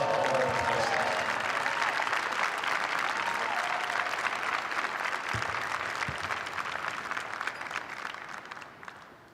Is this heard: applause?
yes